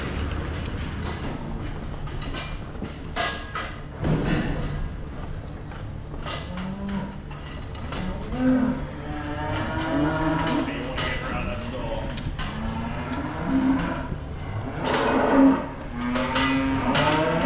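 Cattle low and moo repeatedly while being moved toward a cattle trailer on a farm, several drawn-out calls near and far over a busy background of shuffling and clatter, with people's voices now and then.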